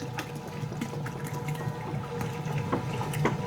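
A gallon of whole milk pouring into a cast iron pot of chicken stew, a steady gurgling stream of liquid running continuously and close, with small splashy glugs and no speech.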